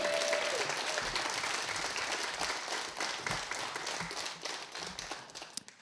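An audience on a live stage in Ogre applauds the heavy metal band Skyforger, dense clapping and a few cheers that start full and gradually thin out over several seconds.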